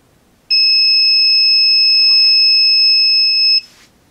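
A heat press timer alarm for shirts, mugs, plates and hats sounds as one loud, steady electronic tone that holds for about three seconds, then cuts off; there is faint handling noise in the room.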